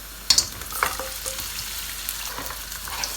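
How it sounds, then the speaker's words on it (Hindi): Mutton pieces fry with onions in a pot for pulao, giving a soft continuous sizzle with a few sharp clinks and scrapes of stirring near the start; no voices. "बस हमने गोश्त को अनियन के साथ फ्राई कर लेना है।"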